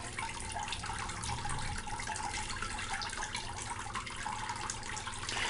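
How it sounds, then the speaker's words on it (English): Water running steadily over a water table used for fine gold recovery, a constant close splashing wash with no breaks. "turn that water flow down just a hair, Darren"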